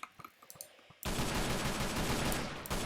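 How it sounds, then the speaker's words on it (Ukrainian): Gunfire in a Minecraft war game: a few sparse clicks and shots, then from about one second a loud, dense, continuous burst of rapid machine-gun fire with a brief dip near the end. "Я стріляю, по ним, стріляю, стріляю, стріляю!"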